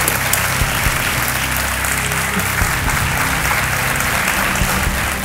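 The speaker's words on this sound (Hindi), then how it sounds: "तालियों के साथ इनका स्वागत करते हैं।" Studio audience on the Kaun Banega Crorepati set breaks into sustained, dense applause, a steady wash of many hands clapping close and loud with no talk over it.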